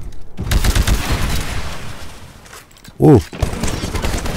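Gunfire in the video game Titanfall, a training-range scene: bursts of rapid shots with a sharp louder blast near the end, mixed with game sound effects and a brief voice.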